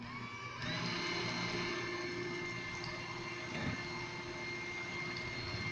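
An electric mixer whirs through a batch of lemon cheesecake keto fat bombs, starting up after a brief pause and then running as a steady, fairly quiet buzzing drone.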